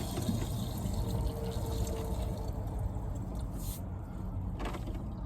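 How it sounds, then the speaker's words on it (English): Water running from a hose with an RV fill valve into a plastic jug, a steady near rush with rising fill tone, alone without talk. "I'm trying to listen to the water so I don't overflow it."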